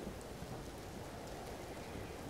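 Steady rain hisses in the video game Empyrion Galactic Survival, with a low thunder rumble beneath it. The wash is faint, even and continuous, with no voices.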